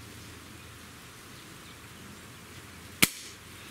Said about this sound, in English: Let's just shoot 5 shots.